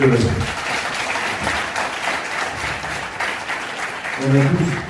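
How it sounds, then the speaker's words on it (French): Audience applause in a hall, continuous clapping from a crowd with voices speaking briefly at the start and end. "mon frère Raviria, qu'on applaudit vraiment pour tout ce qu'il fait."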